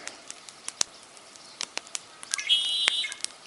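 A red-winged blackbird near a lake gives a brief, clear, whistled call partway through, among scattered sharp clicks and faint outdoor ambience.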